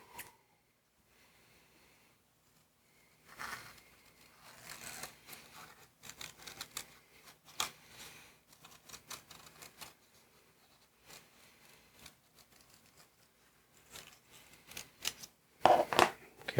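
Scissors snip through paper to cut out a hand-drawn mushroom shape for a Gelli plate tessellation print, a run of close, crisp irregular cuts and rustles after a quiet opening, with louder handling near the end.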